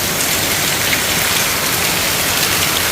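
Steady, loud monsoon downpour over a village, a dense continuous hiss of rain pattering on surfaces with no pauses or voices.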